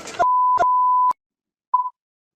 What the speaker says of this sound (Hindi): इसमें 5 जगह बीप है, एक जगह और लगा दीजिएगा।